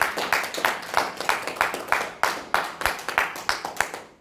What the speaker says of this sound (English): Round of applause for it, guys.